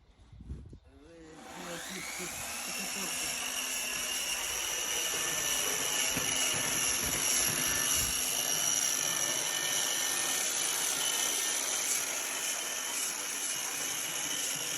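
A loud, steady mechanical whine with a high buzzing tone starts after a second and holds continuously, a power sander sanding a furniture facade close by.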